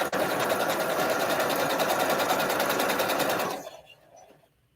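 A sewing machine stitches a quilt seam in one continuous, steady run for a few seconds, close and even, then stops and fades to quiet.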